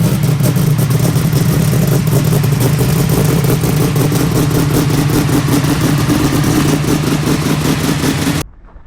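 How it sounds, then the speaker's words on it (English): An LX Torana's engine idles in a driveway, loud and close, with a choppy, lumpy rhythm that runs steadily and then cuts off abruptly near the end. "I'll insert a video of this thing running or just idling in the driveway"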